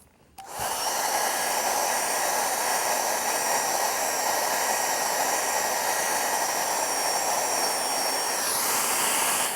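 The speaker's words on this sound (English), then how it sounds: "So let's get at the hairdryer." A hairdryer blows on wet masking fluid on a lighthouse watercolour painting, switching on after a brief click and then holding a loud, steady whirring roar close by, with a slight shift in tone near the end.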